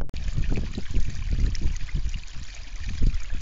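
Water trickles and splashes over stones in a garden aquaponics biotope, a continuous close burbling with gentle irregular droplet patter and a steady hiss, no voices.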